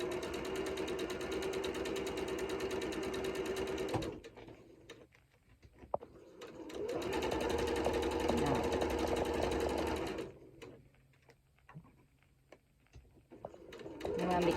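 A sewing machine stitches a decorative envelope cushion in two steady runs of whirring, separated by a quiet pause with handling clicks, the motor starting up again near the end; a person talks over parts of it.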